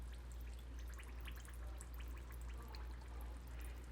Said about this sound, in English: I'm just pushing down one time, and I'm gonna let the air bubbles come up. You can hear them probably.